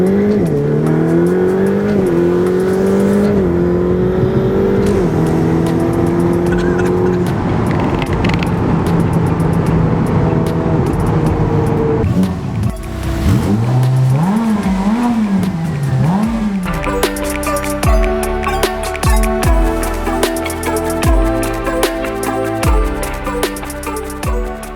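A Ferrari F8 Tributo, a car that reaches 100 km/h in 2.9 seconds, accelerates hard in Bahrain. Its engine note climbs through several loud rising sweeps, then gives way to rhythmic, music-like sound later.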